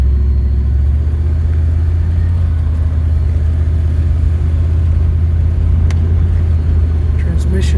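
A 1947 Cadillac resto-mod runs during a pre-purchase inspection, a loud, steady low engine rumble filling the whole stretch as the transmission shifts, with a voice faintly underneath.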